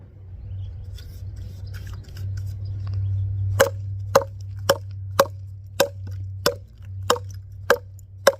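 A Morakniv Garberg knife chops into a western red cedar log with about ten sharp, evenly spaced wooden thwacks, close and crisp, following a few seconds of quiet low hum.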